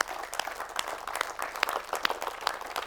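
Scattered audience applause at a motivational business talk, a steady patter of hand claps with sharp individual strikes, moderately distant and fairly soft, with no voices over it.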